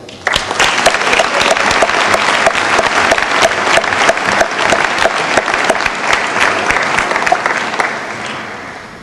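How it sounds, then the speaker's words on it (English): Sustained applause for scholarship award recipients at a 2014 high school graduation, a full audience clapping steadily and loudly before tapering off. "please give another round of applause to this year's scholarship award recipients"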